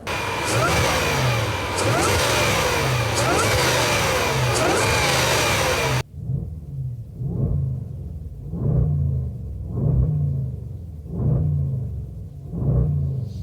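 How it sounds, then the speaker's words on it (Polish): A big 5-litre, 525-horsepower V8 engine in a Range Rover Sport roaring loudly, then revving again and again in rising bursts, close and powerful. "5-litrowa jednostka V8 o mocy 525 koni mechanicznych"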